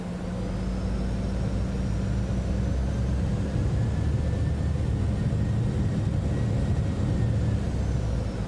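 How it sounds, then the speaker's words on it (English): Business jet engines on a Citation X flight simulator spooling during a throttle check, a steady loud whine and low roar with slowly rising tones, continuous and close throughout. "We're gonna do our throttle check"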